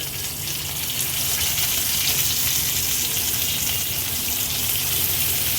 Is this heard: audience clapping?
no